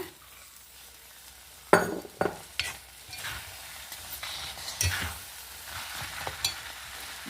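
Boiled kabuli chickpeas tipped into a pan of tomato-tamarind masala for chole and stirred: a quiet start, then a run of sharp, close spatula knocks and scrapes at an irregular pace over faint frying.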